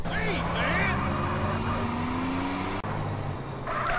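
Car driving in Grand Theft Auto San Andreas, its engine droning steadily at close range while someone talks over it, with a sudden brief dropout near the end.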